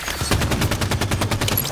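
Rapid automatic gunfire in the video game Halo 5, a dense run of loud bursts firing in quick succession with overlapping shots throughout, no voices over it.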